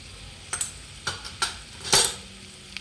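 Spoon or spatula scraping through chicken with turmeric, red chilli powder and homemade masala in a pan for a Maharashtrian chicken sukka fry, heard as several separate sharp scrapes and clinks over a faint background, with no talking.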